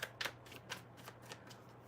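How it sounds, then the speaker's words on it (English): Tarot cards being shuffled by hand, a quiet run of soft, rhythmic riffling bursts, close and alone with no talking. "I'm just going to shuffle the cards and see what comes out"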